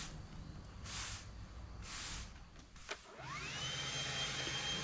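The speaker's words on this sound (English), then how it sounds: "I'm going to take the blower and I'm going to gently blow all the dust and little particles that are sticking on top of the pavers off" A leaf blower blows sand dust off outdoor pavers with a steady, fairly quiet roaring hiss that surges in short bursts, then settles into a continuous whine as the motor speeds up, and no voices are heard.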